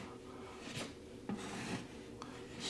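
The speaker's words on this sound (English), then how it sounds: "Take some thin set drywall compound, and we're going to fill that hole." A putty knife spreads thin-set drywall compound into a hole in a wall, giving faint, soft scraping and rubbing strokes with a few slightly sharper scrapes, close by and quiet.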